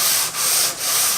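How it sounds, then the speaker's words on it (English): Hand sandpaper rubs along the grain of a wooden Dual 1019 turntable base, wearing down its finish: a close, steady scratchy rasp in two or three even back-and-forth strokes, with no talking. "Nothing better than just taking your time and hand sanding the finish down"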